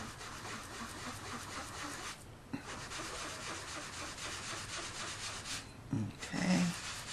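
A sponge dabbing yellow ink onto card paper makes a continuous soft, close rubbing scrape, with a couple of brief pauses and light taps near the end.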